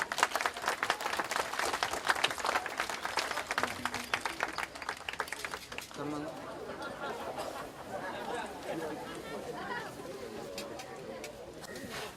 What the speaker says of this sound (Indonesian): kepada Bapak Perdana, Bapak Ganjar Pranowo, boleh tepuk tangannya hadirin